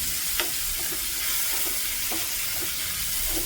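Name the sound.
stirring and frying onions with spices in a pan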